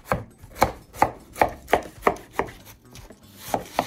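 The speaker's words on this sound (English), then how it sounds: "and then we'll cut some wedges" A knife slices a watermelon into wedges with about nine firm, evenly spaced thuds, close and alone, with a short pause before the last two cuts.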